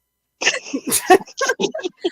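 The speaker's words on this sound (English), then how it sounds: "I just got a cough by mistake there" A single person coughs by accident, a few quick, close throaty bursts in a row that blend into the voice, loud against an otherwise quiet background.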